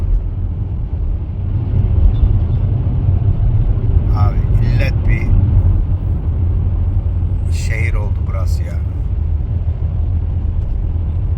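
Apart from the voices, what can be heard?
road traffic noise from inside a car near a bridge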